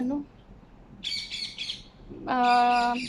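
A bird in a calamansi tree overhead gives loud, harsh, repeated squawking calls. Short chattering bursts come first, then a longer, ringing call near the end.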